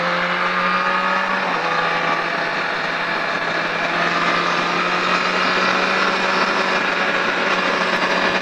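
Triumph Daytona 675 motorcycle accelerating hard on a race track, a loud sustained engine roar with a steadily held high pitch throughout, no voices over it.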